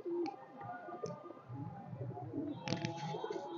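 Highflyer pigeons offered for sale, with soft cooing and a few sharp clicks and flutters nearby over a low background murmur.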